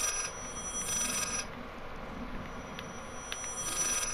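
A telephone rings in the Layers of Fear horror video game, a faint, thin electronic trill repeating in short bursts over a quiet background hum.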